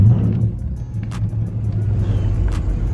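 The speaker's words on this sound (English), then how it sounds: "It's a lot of cars over here though." Cars idling and rumbling at an outdoor car meet, a low steady engine drone close by with a couple of brief sharper bursts of revving or passing noise, no talk.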